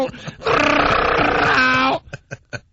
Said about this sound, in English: Oh, yeah. That's the cat in heat.